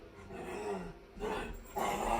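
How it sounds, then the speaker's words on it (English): Dogs fighting nearby, a run of growls, snarls and barks in uneven bursts that swell louder toward the end, with no talk over them. "dogs are fighting now, so this is probably going to end soon"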